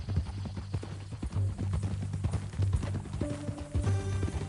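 Horse hooves clip-clop steadily in Red Dead Redemption 2, with a continuous run of close hoofbeats over a low droning, tonal backdrop.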